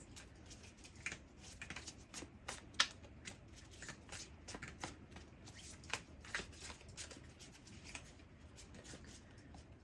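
Soft, quick riffling of cards being shuffled, with repeated light flutters and a few sharper snaps, close and quiet with no talking.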